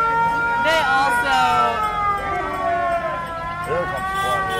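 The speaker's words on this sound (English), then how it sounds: "Siren is very popular on the 4th of July parade, I've noticed." Fire truck siren at a 4th of July parade: a loud wailing, rising-and-falling siren sounds continuously with dense crowd noise and people talking nearby.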